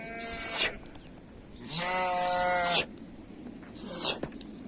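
Three loud, nasal bleats from sick goats with clear harmonic wavering, the middle one longest, separated by short pauses over quiet background.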